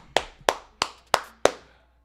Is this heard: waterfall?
no